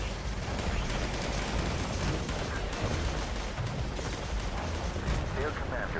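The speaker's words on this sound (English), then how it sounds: "Artillery!" Continuous heavy artillery barrage in the video game Fallout 76, dense booming blasts and rumbling gunfire layered steadily throughout, loud and close with no pauses.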